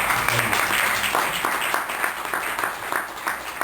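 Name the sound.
audience applause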